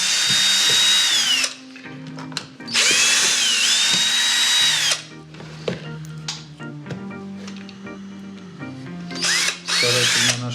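A power drill drives screws into a shoe insole, whining in two long loud bursts and a short final one, with quieter handling knocks between them.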